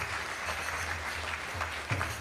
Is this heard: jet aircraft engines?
no